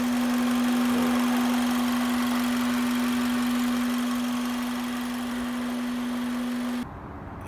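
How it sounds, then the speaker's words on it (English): Acura RSX Type-S engine fitted with an aftermarket air filter, idling with a steady drone and a sharp constant tone, suggesting an air leak, running alone close up before cutting off near the end. "the noises that I was getting from that air filter was different, like there was some kind of leak"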